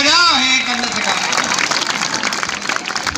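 Audience applause at a Hindi poetry show in Rajasthan, a steady wash of clapping rising after a speaker's voice fades, filling the room and continuing evenly to the end.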